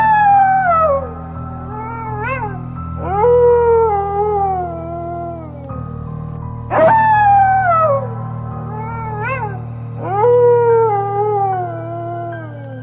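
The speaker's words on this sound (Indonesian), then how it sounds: "terdengarlah lolongan anjing yang begitu panjang." A long, drawn-out dog howl in several rising and falling wails, loud and close, with a steady low drone underneath, used as an effect in a horror story narration.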